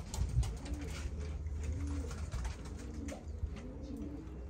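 Several pigeons of fancy breeds coo in a loft, soft low rolling calls repeating every second or so at close range over light background rustle.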